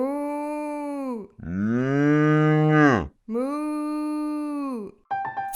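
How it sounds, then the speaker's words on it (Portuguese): A cow moos three times in long, drawn-out calls, loud and close, the middle one lower and groaning, followed by a brief musical jingle. "É a vaca!"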